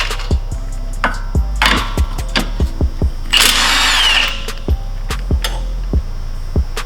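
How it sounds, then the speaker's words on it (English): An impact wrench on a Mk6 VW Golf GTI blasts off the three 16mm ball joint nuts during a coilover install: one loud, roughly second-long whirring burst mid-clip, surrounded by sharp metallic clicks and knocks from the work. "You can blast them off with an impact."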